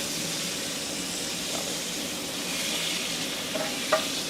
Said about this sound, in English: That is some sexy sizzle right there.